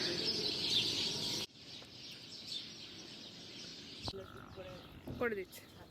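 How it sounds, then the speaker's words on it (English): Birds chirping in a hotel garden in Luxor, Egypt: a dense high chorus of calls at first, then quieter scattered chirps and a few sharper call phrases near the end, with faint talk underneath. "You can hear birds chirping."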